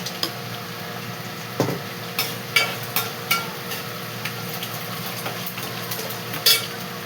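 Curry leaves crackle in hot oil in a tempering pan alongside dried red chillies and garlic, a steady close sizzle under a series of sharp metallic taps of a spoon against the pan.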